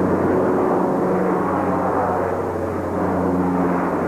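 American military jets take off from Riyadh Air Base during Desert Storm in 1991, a steady, loud, continuous engine roar with a low droning hum that holds unbroken throughout.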